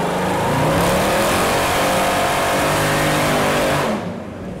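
A Mercedes C63 wagon at a car meet holds a loud, sustained engine roar close by, revving steadily for about four seconds before cutting off abruptly.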